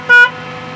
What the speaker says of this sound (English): You gotta honk the horn.